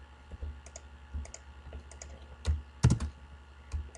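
Keyboard keys clicking during level editing in the Call of Duty Radiant map editor, irregular taps and short bursts of presses, close and fairly soft, with no talking.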